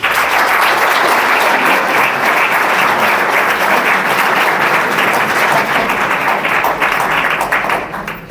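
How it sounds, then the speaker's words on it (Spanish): Loud, sustained applause from a conference audience in Medina del Campo, dense clapping that fills the room steadily before starting to thin out near the end. "Un fuerte aplauso."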